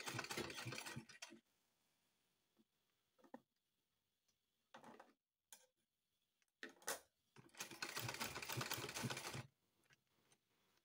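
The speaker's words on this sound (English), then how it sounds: "So and you continue your sewing." A manual sewing machine stitches an invisible zipper in short bursts of rapid mechanical clatter separated by quiet pauses, with a few isolated ticks and clicks between runs.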